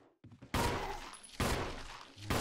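Gunfire in Resident Evil on Nintendo Switch: two or three loud, dense bursts of shots, each ringing out for most of a second, close and with no talk over them.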